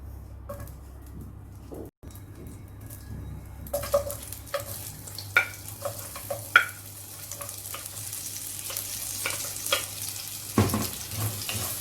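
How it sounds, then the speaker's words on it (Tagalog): Pre-cut onions sautéing in leftover fish-frying oil in a pan, a soft sizzle that grows busier after a few seconds, broken by sharp clinks and scrapes of stirring. "So now we saute our onions."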